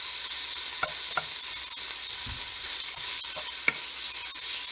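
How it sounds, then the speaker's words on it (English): Bacon sizzles steadily in a pot on the stove while being tossed and stirred to separate the pieces, giving a constant hiss with a few soft scraping clicks, close and even, no talking. "You're just going to toss that around, separate those pieces,"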